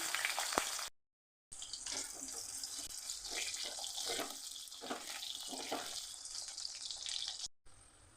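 Potato pieces fry in a pan with cumin for a Bengali fish curry, a soft steady sizzle with scraping and stirring sounds, quiet and close, briefly cut out twice.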